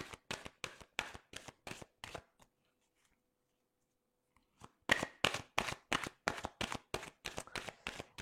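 A deck of mirror oracle cards is shuffled for a reading in quick, rhythmic bursts of soft slaps and flutters. A short silent pause falls midway before the shuffling resumes, close and fairly quiet.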